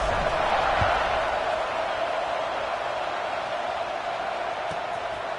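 A stadium crowd in EA Sports College Football 26, at a Florida Gators versus Tennessee Volunteers game, gives a continuous loud roar that stays steady throughout, with faint thuds and a commentator's voice under the din.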